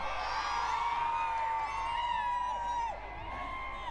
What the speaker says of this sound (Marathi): वारल्यांनी सुद्धा जल्लोष साजरा केला आणि खायल्यांनी सुद्धा जल्लोष साजरा केला